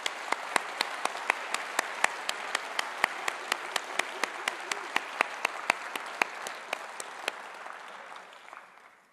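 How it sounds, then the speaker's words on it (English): Audience applause fills a Conservative Party Conference hall, a dense, steady wash of many hands with a few sharp individual claps standing out, sustained loud throughout before tapering off in the final second. "Let's give them a round of applause."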